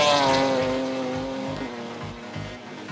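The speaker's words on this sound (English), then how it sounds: "FT86 powered by its H6 Subaru, one of the best sounds on the stages" Toyota FT86 rally car powered by a Subaru H6 engine on a gravel rally stage, a loud nearby six-cylinder howl with harmonic tone as it passes and fades, then rhythmic engine pulses.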